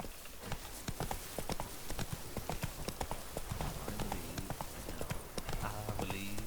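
A horse ridden in The Witcher 3: Blood and Wine clops along in a brisk, regular hoofbeat rhythm, fairly close, over soft background game ambience.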